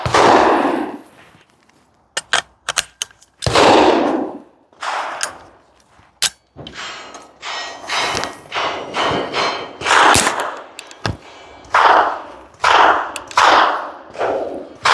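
A rifle fitted with a CMMG .22LR AR conversion firing about two dozen rapid shots in quick strings, each crack sharp and loud, with brief pauses between bursts.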